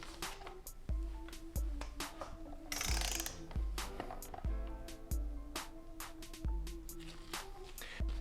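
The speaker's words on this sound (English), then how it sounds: "we'll break out the torque wrench and begin the torquing sequence for the flywheel bolts" A torque wrench tightening flywheel bolts on an Audi B5 S4 2.7t during a clutch and transmission install, heard as repeated ratcheting clicks with a sharp metallic snap roughly every half second to second, close and clear.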